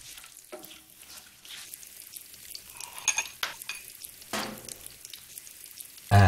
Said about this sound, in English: Then add ginger garlic paste to it and then mix well.